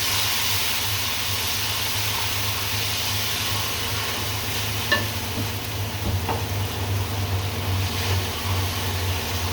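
Onions with salt and ginger-garlic paste frying and being stirred in a pan, giving a steady sizzling hiss with a low hum under it and a few faint scrapes, with no talk.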